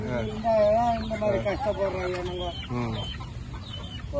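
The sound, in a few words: chickens clucking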